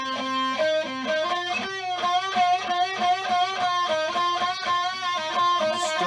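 Distorted electric guitar through an effects unit, playing a rhythmic run of buzzing, harmonically rich notes at steady loud level, with no talking.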